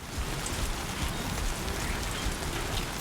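Steady rain falling in the video game Death Stranding 2, a dense, even downpour hiss with no pauses or voices.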